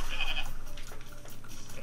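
A goat bleats in a video game, one short, loud, wavering bleat at the start, then faint game ambience.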